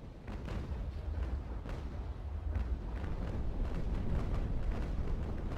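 Ship cannon shots in a naval video game battle: a series of deep booms with rumbling tails, several distinct hits early on, then a steady heavy roar building toward the end, moderately loud.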